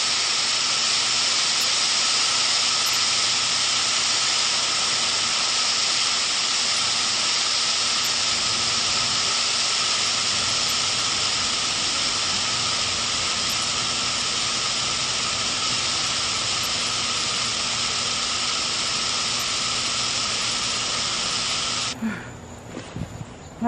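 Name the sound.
insecticide spray being sprayed at a paper wasp nest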